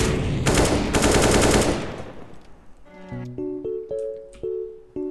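Default AK rifle fired in a first-person shooter match: a loud, rapid automatic burst lasting over a second, then a short pause before a string of sharp metallic clicks and chimes.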